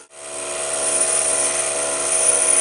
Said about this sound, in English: Each pass has been cutting 1/100th of an inch deep.